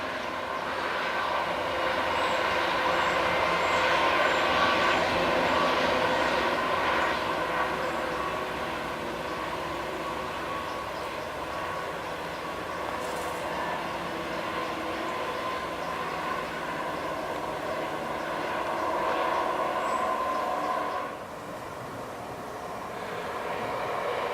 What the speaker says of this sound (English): Right, another 153 and 170 combination heading for Rugeley.